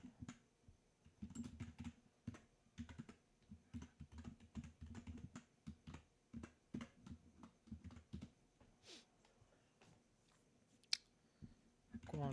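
Close, irregular keyboard typing while someone writes code, with soft key clicks in quick bursts and brief pauses, one sharper clack near the end, and no talk.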